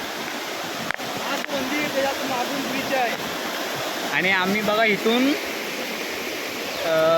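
Rising water rushes and roars steadily near the foot of a hill after heavy rain, a continuous broadband flow under a voice speaking throughout.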